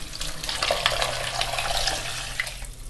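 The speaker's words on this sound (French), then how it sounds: "Et nous allons ajouter notre bouillon" Broth poured into flour browning in a pan, a close, steady splashing pour with bright liquid hiss lasting a few seconds, no voices.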